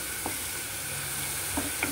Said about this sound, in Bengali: আলুটাকে প্রথমে আগে ভেজে নেব